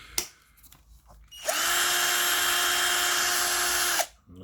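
A Deko cordless drill-screwdriver spins up with a sharp rise, holds a steady high-pitched whine for about two and a half seconds, then cuts off, loud and close after some faint handling clicks.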